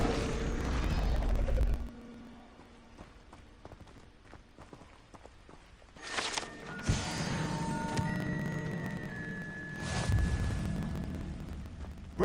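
An Incendio fire spell is cast in Hogwarts Legacy, giving a sudden roaring whoosh of flame that swells and lingers over background game ambience, with a second burst a few seconds later.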